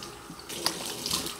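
Tap water runs steadily into a bathroom sink for face washing, a continuous broadband splashing hiss with slight surges, close and alone without talk.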